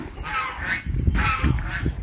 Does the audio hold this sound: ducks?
yes